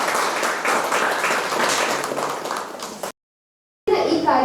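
A crowd at a roadside gathering claps in sustained applause for about three seconds, cut off abruptly, then a brief loud burst of sound resumes.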